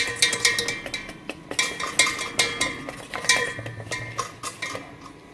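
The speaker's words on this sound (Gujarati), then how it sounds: "એને પ્રોપર એકદમ મિક્સચર કરી દઈશું" A spoon stirring dhokla batter in a steel bowl, with quick scraping and clinking strokes in an uneven rhythm, close and clear, no voices.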